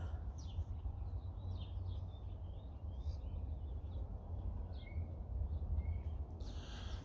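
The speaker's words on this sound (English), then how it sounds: "I'll miss these birds. Listen to them all for just a second." Several birds sing and chirp outdoors in short, scattered calls at a moderate distance, over a steady low rumble of background noise, with no talking.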